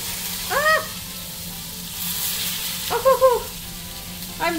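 Burger patties sizzling in a frying pan while being pressed flat, a steady close hiss broken by a few short squealing squeaks, with no talking over it.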